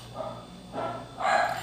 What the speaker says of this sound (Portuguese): não repare os cachorros, tá, amados?